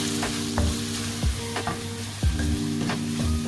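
Garlic and onions frying in a pan, a steady sizzle broken by repeated scraping stirs at a quick, uneven rhythm, close and clear with no talking.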